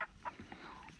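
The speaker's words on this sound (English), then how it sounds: "are you harassing the chickens? Leave them alone." Young meat-bird chickens on a small farm give a few short clucks, close and fairly quiet, over a low steady outdoor background.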